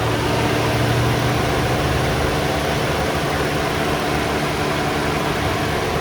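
A steady, rumbling engine idles continuously, loud and close, with a broad hiss and no change in pitch throughout.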